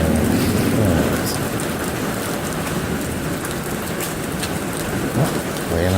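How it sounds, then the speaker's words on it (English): Hail falls steadily during a storm, a dense, loud, continuous patter with no let-up. "there's still some hail dropping"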